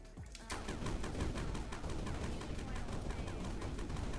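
Rapid, steady bursts of gunfire from a weapon in the pixel-sand mining game Sandustry, hammering out a fast regular rhythm at close range, loud and continuous after a brief quieter opening.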